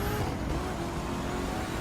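A Corvette cruising in The Crew 2 racing game, a steady, loud, broadband engine and road roar that stays constant throughout with no breaks.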